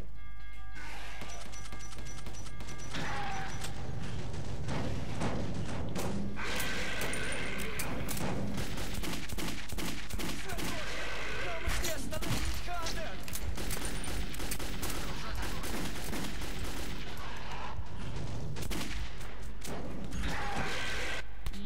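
Heavy gunfire in Metro 2033 rattles through a tunnel setting in long stretches of rapid, loud bursts and single cracks, repeating over and over with short pauses, while a player's voice now and then breaks in over the shooting.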